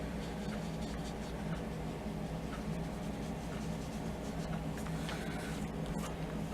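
A pen scratches across paper in close, continuous strokes as small figures are drawn, steady and fairly loud with no talk.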